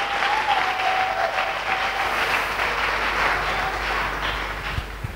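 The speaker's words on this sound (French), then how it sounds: "Acclamons très fort pour le roi" A church congregation applauding for the king, steady loud clapping from many hands sustained throughout, with a faint tone hovering early on and no speech over it.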